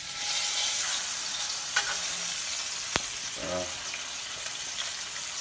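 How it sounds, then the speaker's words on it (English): Catfish fillets frying in oil in a skillet over medium heat, giving a steady close sizzle with a few sharp pops and crackles throughout. "So we're pretty much frying these fillets until they're nice and crispy and brown, golden brown on both sides."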